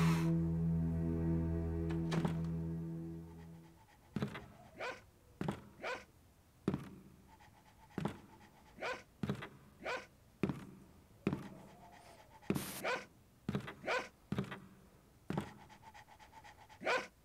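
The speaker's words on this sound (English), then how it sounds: "the barking is kind of repeating" A dog barks again and again in short, evenly spaced bursts after a few seconds of low rumbling, each bark sharp and fairly close, in the game Ju-on The Grudge: Haunted House Simulator.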